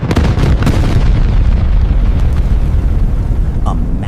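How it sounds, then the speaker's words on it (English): Massive explosion tears through the tail of an airliner in flight, a loud, sustained roaring blast with crackling debris that stays intense for several seconds. "a massive explosion tears through the tail of the aircraft"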